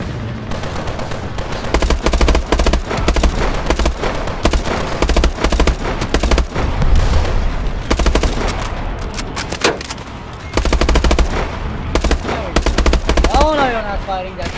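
Dense sustained machine gun fire in the video game Call of Duty Advanced Warfare, loud continuous rattling bursts with heavy booms, brief gaps and game voices mixed in.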